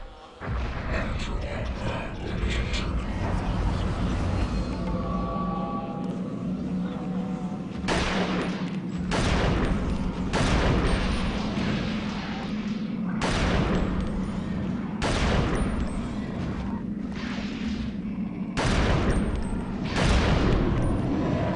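Pistol shots in the game Eternal Darkness, roughly six of them, spread over about fifteen seconds as sharp, loud cracks. A steady low mechanical drone and some faint voices sit underneath.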